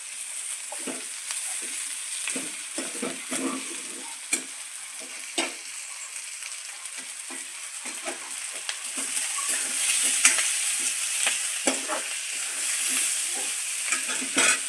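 Capsicum strips added to a hot pan for Indo-Chinese chilli chicken gravy, frying with a steady close sizzle and repeated scraping stirs of a spatula throughout, no talking.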